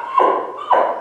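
A man gives two drawn-out, nasal, moaning grunts in imitation of an elk grunt call, one after the other, loud and close outdoors.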